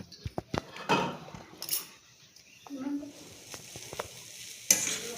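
Beetroot and carrot fry in a pan with a moderate sizzle, broken by clinks and scrapes of a stirring spoon against the metal.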